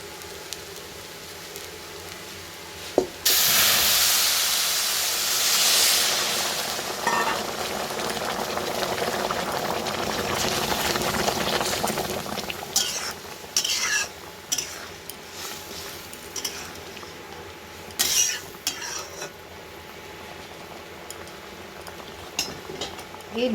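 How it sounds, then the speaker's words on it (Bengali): Boiling water poured into pulao in a pot: a loud rushing pour and burst of hiss that fades into softer bubbling, with scattered clinks of a spoon against the pot. "এখন আমি এই ফুটন্ত জলটাই কিন্তু পোলাওয়ের ভিতরে মেশাবো"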